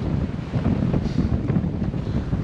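Wind roars steadily across the microphone aboard the sailboat Hyppocampe at sea near Les Sables d'Olonne, a dense, constant rush with buffeting gusts and a hint of water beneath, close and loud, with no one speaking.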